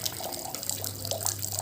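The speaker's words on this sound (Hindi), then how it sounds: "गरम है पानी इसलिए डाल रही हूँ, नहीं तो इनको ठंड लग जाएगी।" Warm water pours steadily while a bird cage is washed, a continuous close splashing stream with no talk over it.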